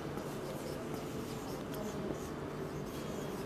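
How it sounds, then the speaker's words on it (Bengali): Chalk or marker scratches steadily across a classroom board in continuous faint strokes, with no voices heard. "আমি একটু বোর্ডে লিখি, তোমরাও লিখে নাও।"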